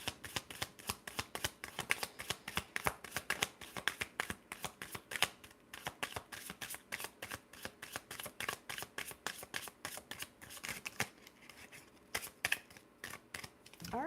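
A deck of oracle cards shuffled steadily for a long stretch, the rapid papery riffles and flutters coming in quick repeated bursts, close and fairly quiet, with no talking.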